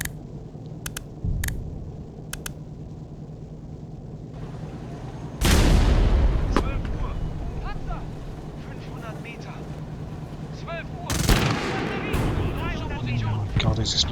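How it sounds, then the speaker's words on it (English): Heavy booms go off nearby around a tank, two big blasts a few seconds apart with rumbling aftermath, amid wind noise and occasional speech. "Oh, there's explosions around us."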